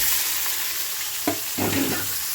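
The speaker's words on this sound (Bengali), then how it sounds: "পেঁয়াজটা আমার ভাজা ভাজা হয়ে গেছে," Onions fry in hot oil with whole garam masala, cumin and bay leaves, giving a steady crackling sizzle, broken near the end by a couple of spatula scrapes as the pan is stirred.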